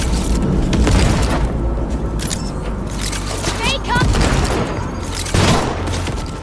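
Rocket launcher arm explosions in the video game Cyberpunk 2077: a series of booming blasts and bursts, loud and close, layered over dense game sound and what seems to be background voice.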